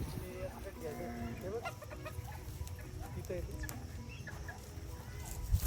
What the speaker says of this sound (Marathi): गोठ्यात ना भरपूर कोंबड्या आहेत